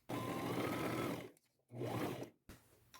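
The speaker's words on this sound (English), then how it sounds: "with a zigzag stitch, just stitch at the top right here before it gets to the fringe" Sewing machine running a zigzag stitch across the top edge of a scarf above its fringe, two steady whirring bursts with a brief pause between and a short restart at the end, close and clear with no voices.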